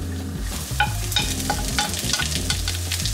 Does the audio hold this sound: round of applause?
no